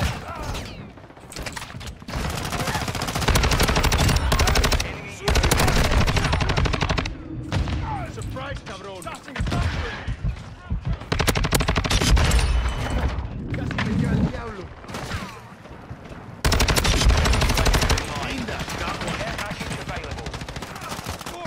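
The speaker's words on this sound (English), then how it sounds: "I'm taking fire." Automatic gunfire in a Call of Duty game, long loud bursts of rapid machine-gun shots in repeated waves with short pauses between them, close and dominant, with a voice speaking now and then.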